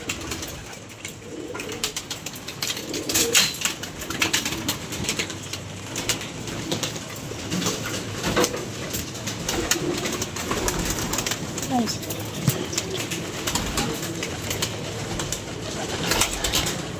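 Pigeons coo repeatedly amid a busy, noisy background with occasional wing flutters and some voices nearby.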